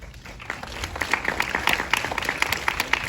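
Audience applause at a film festival Q&A, a crowd clapping that starts softly and swells into dense, lively clapping, moderately close and unaccompanied by talk.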